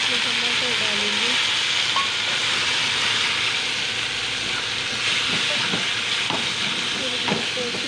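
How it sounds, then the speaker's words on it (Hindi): Onions fry in hot oil with a constant close hiss and crackle for several seconds, while a voice is briefly heard near the start. "फिर हम इसमें प्याज फ्राई करेंगे इसी तेल में।"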